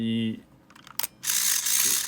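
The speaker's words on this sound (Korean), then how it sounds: "잘 보시면 이 셔터막이 움직이는 걸 알 수가 있어요" A Samsung AF200, a 1980s Korean point-and-shoot film camera, fires its shutter with a few quick mechanical clicks. A whirring motor drive follows, loud and close, while a person speaks nearby.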